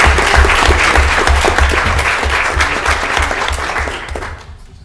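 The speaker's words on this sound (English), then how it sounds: "We can clap for Mr. Kuzmano." An audience at an evening school board meeting applauds a school principal, giving a loud, dense clapping that runs steadily and then fades out toward the end.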